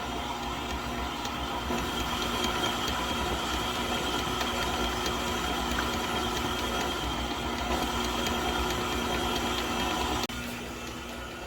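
An electric mixer blends two cups of flour into jam thumbprint cookie dough with a steady, continuous whirring drone, close and even, with no talking. The motor drops slightly near the end.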